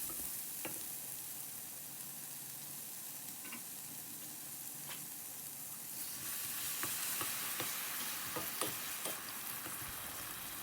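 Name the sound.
stirring coconut milk with red curry paste in a pot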